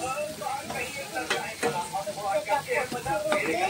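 Ginger, green chilli and tomato masala fries in oil with onion and garlic, making a moderate, continuous sizzle with bubbling pops and a few sharp clicks of a utensil against the pan.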